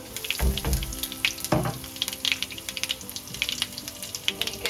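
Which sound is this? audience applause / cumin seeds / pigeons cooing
cumin seeds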